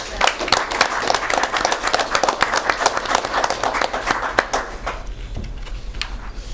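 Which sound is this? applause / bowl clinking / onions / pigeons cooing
applause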